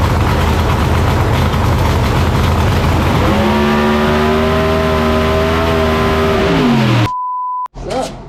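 A KTR race engine rated over 3500 hp roars loudly at close range during a dyno pull, its pitch climbing steadily as it revs up, then cutting off abruptly into a steady tone before brief noise resumes.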